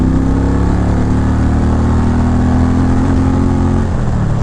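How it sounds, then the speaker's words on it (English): A stock motorcycle engine with a dual exhaust system runs loud and close, a steady throaty idle with strong low harmonics holding for about four seconds before dipping slightly at the end. "for it being a stock bike, it makes a pretty nice noise"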